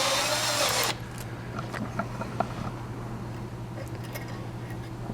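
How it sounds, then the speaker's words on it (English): Thread rolling machine pressing threads into steel rod, a brief loud whirring burst that stops after about a second, leaving a steady low hum with light mechanical clicks. "this rolls the threads. It doesn't cut the threads. It just presses on the steel and pushes out the threads."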